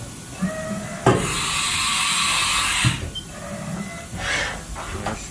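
A Haas VF CNC vertical mill spindle turning at a slow 300 RPM, giving a steady, smooth mechanical whir and hiss with a few soft clicks and knocks, fairly close and with no talk over it.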